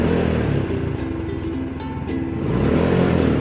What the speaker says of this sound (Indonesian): Saya akan gas sedikit untuk tanda mesin nyala